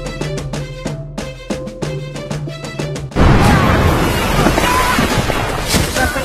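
A loud explosion from the 2003 war film Tears of the Sun cuts in sharply halfway through, following a rhythmic musical passage, then rumbles on with dense debris and noise until the end.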